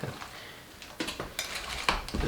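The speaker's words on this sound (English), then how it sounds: "Just give her a little stir" Stirring Italian sausage soup in a full crock pot: a few scraping clinks of a utensil against the pot, irregular and close, with no talk.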